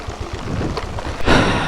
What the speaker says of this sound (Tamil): திடீர்னு இப்படி மழை வந்துட்டுருக்கு.